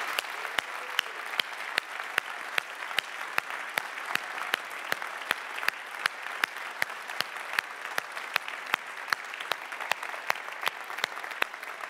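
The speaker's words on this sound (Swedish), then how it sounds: "ska vi inte ta åt ge den här kyrkans arkitekt Lars Hallgren en riktigt stor applåd." A congregation in a church applauds continuously, dense steady clapping filling the room, with a few sharper individual claps standing out throughout.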